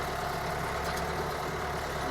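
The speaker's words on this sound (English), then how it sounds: "All right, so the tractor's running right now." A tractor engine idles in a steady low rumble, close and constant, with no variation in pitch or speed and no voices.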